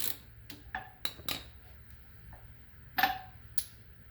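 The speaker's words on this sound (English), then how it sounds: "So we're gonna remove first the filler bolt" Metal tool clicks and light taps while loosening the final gear filler bolt on a Yamaha V Star 650 motorcycle, a handful of sharp ticks spaced irregularly, close and fairly faint against a quiet background.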